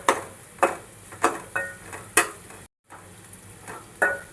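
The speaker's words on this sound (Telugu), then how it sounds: "ఇవి మొత్తం అయితే ఆయిల్లో మంచిగా ఫ్రై కావాలి" Sweet corn and vegetables fry in oil for sweet corn fried rice, with a steady sizzle broken by repeated sharp stirring scrapes and clinks of the spoon against the pan, close and moderately loud.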